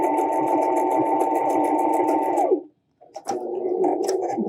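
A sewing machine stitches a face mask in a loud, fast, steady mechanical run that stops briefly, then starts up again at close range.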